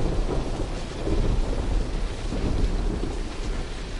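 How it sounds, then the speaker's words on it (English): Thunder rumbles continuously through a lightning storm in the video game Fortnite, a loud, dense roar with rain-like hiss, steady throughout with no voices. "The lightning of the clouds are literally connecting right now."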